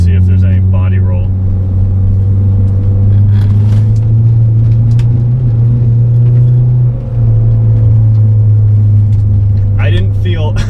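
A car is driven hard through a sharp turn at around 35 to 40 mph, its engine droning loud and steady with road rumble inside the cabin, and a brief dip in the engine note partway through.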